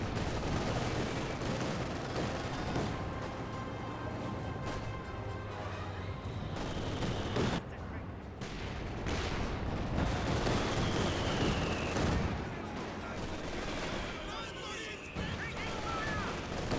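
Gunfire in a Company of Heroes 2 battle between grenadiers and conscripts, scattered rifle and machine-gun bursts at moderate level under continuous spoken commentary.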